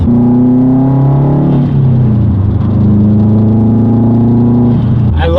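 A Subaru WRX with an aftermarket exhaust and equal-length headers revs up loud and close, its engine note holding steady, dipping and climbing again, then dropping off at the end.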